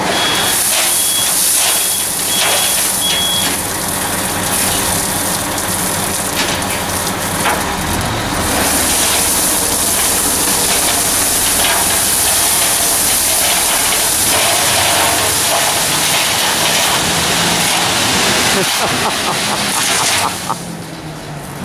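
A truck backs into a yard with its reversing alarm beeping steadily, then tips a load of gravel that pours out as a long, loud rumbling rush before tailing off near the end.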